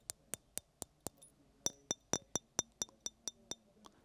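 A stainless steel watch case with a glass crystal, tapped against a microphone: about sixteen sharp, tinny, ringing clinks in a fairly steady rhythm, close and clear, with no talk.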